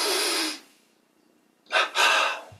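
A deep breath drawn in during a guided meditation exercise, then a long exhale, each loud and airy with a quiet pause between, heard alone with no talking.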